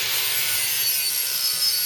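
Steel from an old saw blade and flat iron bar being cut to length for a Damascus gyuto knife billet, giving a steady, harsh rasping grind that runs without pause, close and fairly loud.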